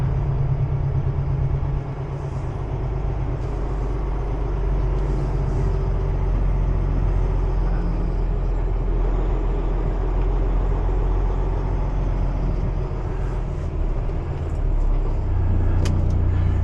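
Two trucks idle at a loading area, a steady low rumble of diesel engines that holds close and loud throughout, with faint higher mechanical hiss above it.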